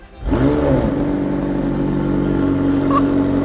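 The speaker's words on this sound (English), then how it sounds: "this is my McLaren 720S" A McLaren 720S supercar engine fires up and settles into a loud, steady, deep rumbling idle close by, sustained without pause.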